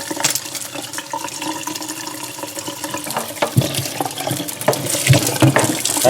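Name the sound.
tap water running over frozen beans being washed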